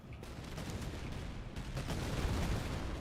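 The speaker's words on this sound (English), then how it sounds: "I'm gonna throw grenades in the front." Grenade explosions and gunfire in a video game battle on Marshal difficulty with Royal Recruits: dense, continuous volleys of shots and booming blasts. Two heavier explosive surges land near the start and midway, and the barrage builds louder toward the end.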